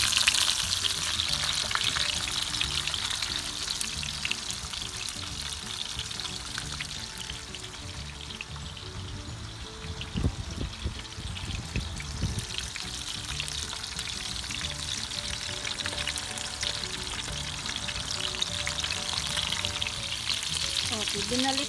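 Tuyo, Filipino dried fish, frying in a pan, a continuous soft sizzle and crackle with occasional pops and bubbling, steady and close with no talking.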